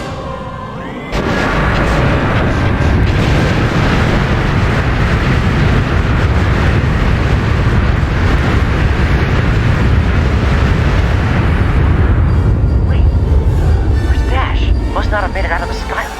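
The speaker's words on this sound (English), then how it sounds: "We make one last run through the core towards the exit as the tunnels explode around us" Tunnels exploding in the Star Wars: Shadows of the Empire video game, a sudden onset of loud, sustained rumbling blasts and booming detonations that roll on for many seconds before easing.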